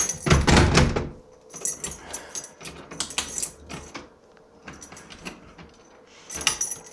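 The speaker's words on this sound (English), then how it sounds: "I want to get this door locked" Keys jangle and a door lock clicks shut, with several bursts of metallic rattling and thunks close by that stop and start across the clip, with no talking.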